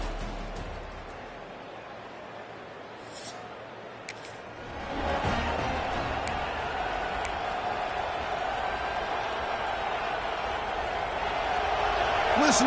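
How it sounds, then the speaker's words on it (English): A college football stadium crowd at an Ohio State versus Alabama game roars as a broad, steady wash of noise that swells louder after a few seconds and holds, with commentary talk over it. "Listen to the crowd energy here in the early going."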